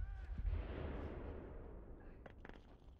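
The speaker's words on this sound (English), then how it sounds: "Oh, that's a grenade." A grenade goes off in Rainbow Six Siege, a loud booming blast with a low rumbling tail, followed by a couple of sharper bursts near the end.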